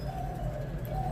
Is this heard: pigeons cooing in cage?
yes